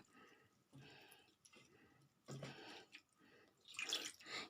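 Water is poured into curd in a kitchen while making aloo kadhi, faint splashing and dripping in a few separate short bursts with quiet gaps, growing a little louder toward the end.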